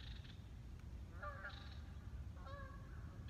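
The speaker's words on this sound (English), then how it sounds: "And there goes the birds flying overhead." Geese honk outdoors over a garden, two short bursts of calls, moderately near above a low, steady background rumble, with no talking.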